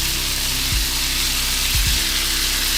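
Chopped collard green stems and half a large onion sizzle steadily in a hot pan, a loud continuous frying hiss with a few soft stirring bumps, no talking.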